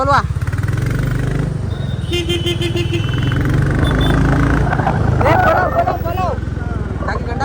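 A Royal Enfield Bullet and a Honda Shine motorcycle rev and race close by, their engines throbbing and rising in pitch. Loud, rough exhaust fills the whole stretch.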